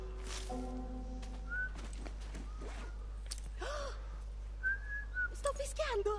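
Whistled tones from a character in The Last of Us video game, a few short steady pitches repeated across the stretch, with soft breaths and gasps around them and game ambience underneath.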